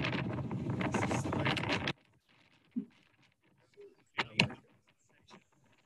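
Wind blasts across the microphone aboard a boat during an outdoor shoot, a loud rushing roar for about two seconds that cuts off abruptly, followed by a few faint scattered knocks and bumps.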